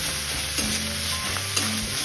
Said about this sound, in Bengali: রসুন পেঁয়াজটা ভালো করে ভাজা হয়ে গেছে